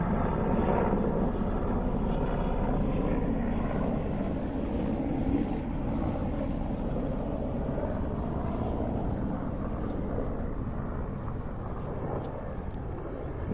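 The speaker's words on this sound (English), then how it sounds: "Another helicopter there going off to Yeovilton as well." Helicopter flying over the Somerset Levels toward Yeovilton, a steady distant rotor and engine rumble mixed with outdoor wind noise throughout.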